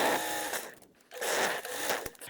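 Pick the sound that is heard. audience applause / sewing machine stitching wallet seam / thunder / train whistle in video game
sewing machine stitching wallet seam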